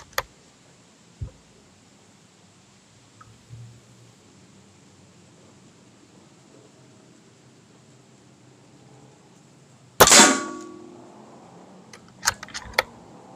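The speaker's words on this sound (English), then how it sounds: "I'm shooting for the top left target. Well, that hit the target that time." Air rifle shots from a Notos Gen2, fresh out of the box with a scope fitted, striking a target: a sharp crack near the start, then one loud report with ringing tail and a few quick follow-up impacts.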